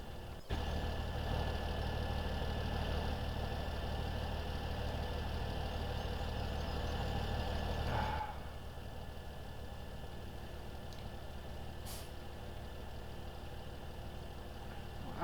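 A tractor engine idling in Farming Simulator 17, a steady low mechanical drone that runs throughout, dropping slightly in level about halfway, with no talk over it.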